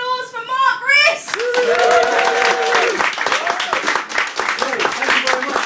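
A live comedy-poetry audience at Pint of Poetry, Edinburgh Fringe 2012, breaks into a loud, sustained round of applause and cheering after a singing voice ends, the clapping dense and steady throughout.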